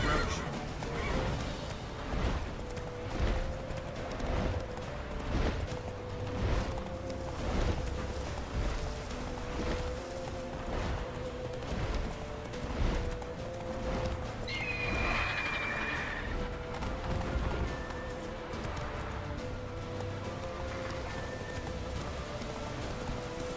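In The Witcher 3 video game, the horse Roach gallops with rhythmic clip-clopping hooves and lets out loud neighs and whinnies, mixed with game ambience and a few brief voice sounds.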